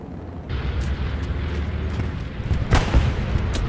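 A bombing run in the World War II shooter Hell Let Loose brings a dense, continuous rumble of heavy explosions with sharper blasts cracking through near the end, loud and sustained with no talk.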